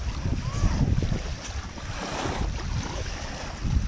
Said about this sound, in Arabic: مع صوت الماء هيك وحركة المياه شيء جميل جدا